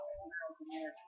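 A person makes a mouth imitation of a water drop, a few short tonal plips and pops with a rising bright tone near the end, close and alone without other talk.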